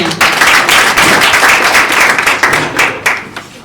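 An audience applauds loudly at a public speaking club session in Bamako, a close, dense wash of clapping with sharp individual claps that thins out near the end.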